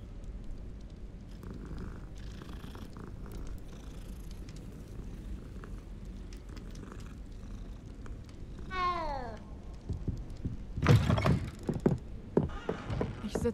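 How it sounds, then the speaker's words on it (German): A cat in the video game Hogwarts Legacy gives a drawn-out meow, then a louder, sharper cry, over quiet game ambience with soft thumps. "Ist auch eine Katze."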